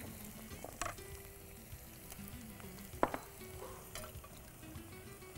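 Onions sautéing with ginger-garlic paste in a pan, a faint steady sizzle with a few light clinks and scrapes of stirring, quiet and close, no voices.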